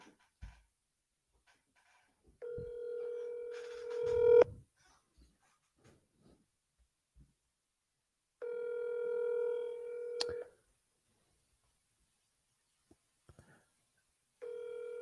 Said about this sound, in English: someone's about to answer the phone